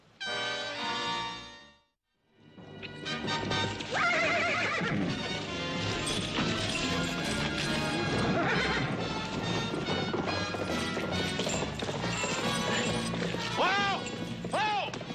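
Horse neighing in a Western drama scene, with a whinny near the start followed by a dense mix of music, hoofbeats and commotion that runs loud and continuous to the end.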